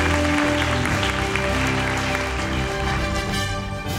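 Applause at a school diplomacy quiz award ceremony welcomes a foreign ministry consul general to the stage. The clapping is dense, loud and steady throughout, with a sustained tonal backing underneath.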